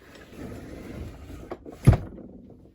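A pull-out drawer in a home hobby room slides with a soft rumble, then lands with a sharp wooden knock and quiet settling afterward.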